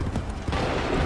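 Musket volley in Assassin's Creed 3, a brief ragged crackle of several shots firing nearly together, close and fairly loud against battlefield noise.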